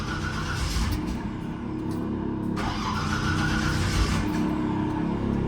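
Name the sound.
Chevy truck air tank filling up after air was dumped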